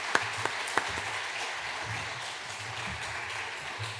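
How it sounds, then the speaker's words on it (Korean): Audience applause welcoming a pastor to the stage before a sermon on Psalm 1 at a church gathering, a steady wash of many hands clapping at moderate loudness with a few sharper, closer claps near the start. "우리 목사님 나오실 때 또 박수로 한번 환영하시면 좋겠습니다"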